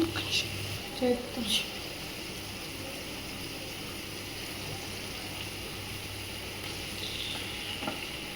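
Chicken pieces hit hot oil already frying ginger-garlic paste in a pan, giving a steady, soft, continuous sizzle with a few brief clinks near the start.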